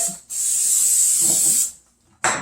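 A bread pan being greased with cooking spray: one long sharp hissing burst of about 1.3 seconds, then the start of a second spray, close and loud.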